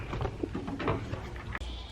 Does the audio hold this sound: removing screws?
no